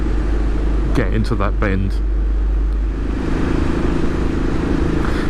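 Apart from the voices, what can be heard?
2018 Royal Enfield Classic 500 motorcycle engine, throttle opened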